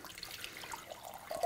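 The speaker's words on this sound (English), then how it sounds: "I'm going to add some cooler water to this as well." Cool water pours into a pot in a home kitchen for brewing kombucha. It is a faint, close trickle with a few light splashes and drips and no talk.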